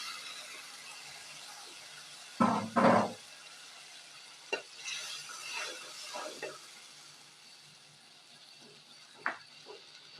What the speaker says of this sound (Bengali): 1/2 কাপ পানি দিয়ে দিচ্ছি।